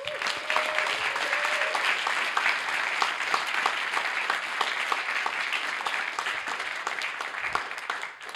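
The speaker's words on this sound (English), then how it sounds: "I would like to give the entire Reg team a big round of applause" Sustained audience applause for the Reg team at the SIEGE 2016 town hall and closing ceremony, dense steady clapping filling the room for the whole stretch, with a brief whistle-like cheer near the start.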